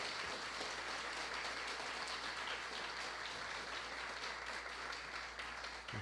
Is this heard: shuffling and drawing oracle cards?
no